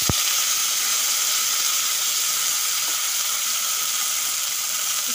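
Prawns frying in hot oil in a kadai: a steady, even hiss of sizzling oil held at a constant level throughout, with no voices.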